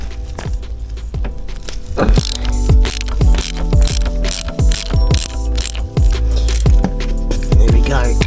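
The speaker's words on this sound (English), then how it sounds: "So let's get this nut loosened off." A ratchet clicks repeatedly while loosening the rear sprocket nut on an Aprilia RSV4 RF motorcycle, giving loud, close metallic pawl clicks in steady strokes over a low hum.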